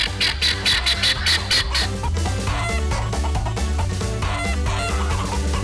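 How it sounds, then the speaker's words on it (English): A crowd of show chickens of many breeds, among them White Rocks, Polish and silkies, cluck and squawk loudly together at a poultry show, a rhythmic chorus of overlapping calls. "We've got all different kind of chickens that they don't normally see."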